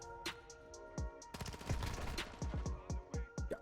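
Rapid SMG bursts crack out in a Call of Duty Modern Warfare 2 match, several short volleys of fast automatic fire with brief gaps, loud and close, with faint game effects between them.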